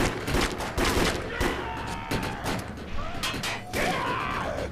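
Pistol gunfire in the video game Defiance comes as a string of sharp, close shots at irregular intervals, mixed with clanks and impacts in a busy game soundscape.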